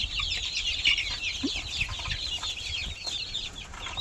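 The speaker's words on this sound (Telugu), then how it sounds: "ఇందులో పుంజులు పెట్టలు అన్నీ కలిసే ఉన్నాయి" Chickens on a farm, roosters and hens kept together, cluck and chatter in a steady overlapping chorus at moderate distance, with scattered louder calls.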